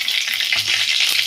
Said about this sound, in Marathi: आपल्याला यामध्ये टाकायचे थोडंसं जिरा